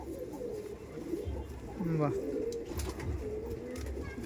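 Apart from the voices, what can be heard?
pigeons cooing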